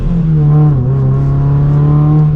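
A Toyota GR86 sports car with an aftermarket exhaust revs loudly and close by, a steady throaty engine note that dips briefly and then climbs again.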